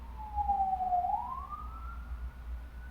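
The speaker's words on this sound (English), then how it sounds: "Let the sirens go through." A single emergency vehicle siren wails faintly in the distance, its pitch dipping and then rising into a steady tone.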